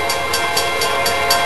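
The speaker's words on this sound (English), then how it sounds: "Here comes an SD60" An SD60 diesel locomotive rolls past Summit Crossing, a loud, steady rumble with a sharp periodic clatter of wheels repeating about every quarter second.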